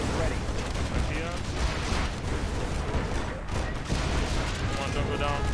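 Dense, continuous gunfire and heavy explosions fill a battle in the Chaos Mod strategy game, with rapid volleys churning without pause, loud throughout, and voiced unit lines over the din.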